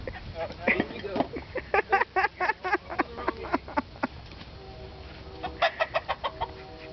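Chickens cluck and a rooster calls in a repeated, fairly close series of squawks while the birds and ducks are herded, with a low background bed; no speech is heard.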